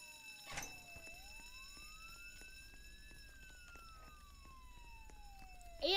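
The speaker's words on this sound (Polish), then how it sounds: "tam policja gdzieś jest, bo słyszę" A police siren in the video game Roblox Jailbreak wails at a distance, its pitch sweeping slowly up and down over steady background noise, with a brief knock near the start.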